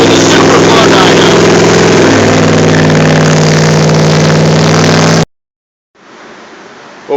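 A 1968 Nova engine runs on a SuperFlow dyno, a loud steady droning roar whose pitch shifts partway through as the throttle changes, then cuts off abruptly before a quieter hiss resumes.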